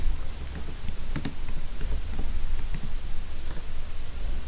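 Keys clatter on a computer keyboard as a short command is typed into a Linux terminal: quick, light clicks in small bursts over a faint background hiss, close and fairly quiet.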